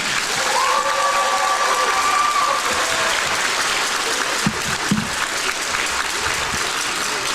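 A high school gym crowd at a girls' basketball game between the Hooks Lady Hornets and Redwater Lady Dragons applauds and cheers a senior player, with loud, sustained clapping throughout and a brief whistle-like tone early on.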